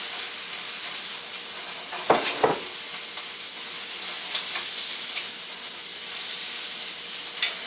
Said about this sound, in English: Now we're going to put in our onions and garlic.